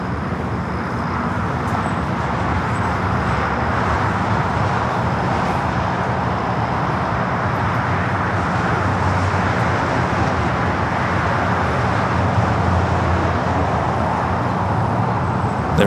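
An airliner arrives on runway 25 Left at Los Angeles International Airport, heard as a steady, broad jet roar that stays at an even level throughout. Faint traffic hum sits beneath it.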